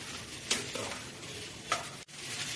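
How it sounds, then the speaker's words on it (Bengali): Garlic fries in a pan for a hostel chicken curry, a soft steady sizzle broken by a couple of sharp spatula scrapes and clinks. "এগুলো ভালো করে একটু লাল লাল করে ভেজে নেব।"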